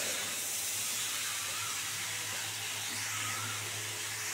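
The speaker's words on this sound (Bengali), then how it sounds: "এবার অল্প করে জল দিয়ে দেবো।" Water hits a hot pan of shrimp and ridge gourd, giving a steady, close hiss of steam that holds at an even level throughout.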